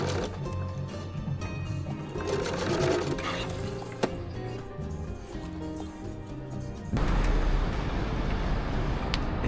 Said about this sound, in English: I stitched the flap down through the pocket